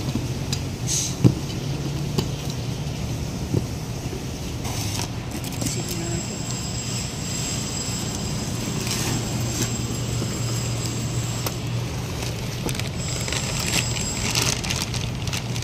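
A Hyundai Accent with a dual clutch transmission idles steadily nearby, giving a continuous mechanical hum and rattle with faint whining overtones and occasional clicks, and no voices.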